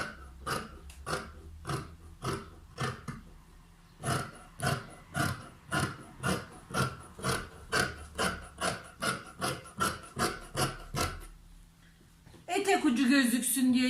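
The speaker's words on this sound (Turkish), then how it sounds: "1 santim dikiş payı vererek kesiyorum." Scissors cutting through dress fabric with a one-centimetre seam allowance, a steady series of about twenty rhythmic, close rasping snips that stop before a brief burst of other noise at the end.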